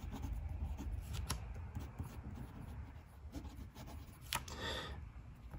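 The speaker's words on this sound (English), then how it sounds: "So you can see this pen writes very, very nicely." An Edison Ascent fountain pen with a stub nib writes on paper, giving close, steady scratchy strokes with a few sharper ticks as the nib lifts and lands, with no talking.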